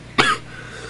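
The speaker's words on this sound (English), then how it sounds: "I'm coughing a lot" One sharp, close cough bursts out and stops quickly, leaving quiet room tone.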